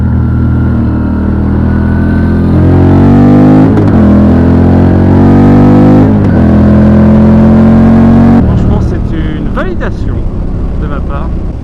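Motorcycle engine under way, a thumping single-cylinder-like note with steady harmonics that rise and fall through gear changes, loud and close, with a rider's voice talking over it throughout.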